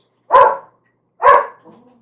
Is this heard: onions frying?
no